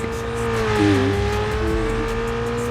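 A video game car, a Mercedes, drifts, its engine roaring and revving with a rising and falling whine, tires squealing briefly as it slides, loud and continuous with no talking.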